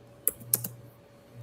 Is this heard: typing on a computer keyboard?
yes